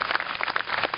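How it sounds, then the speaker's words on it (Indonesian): Applause from a gathered audience, dense clapping with a steady crackle, somewhat muffled and continuous throughout. "Tepuk tangan semuanya."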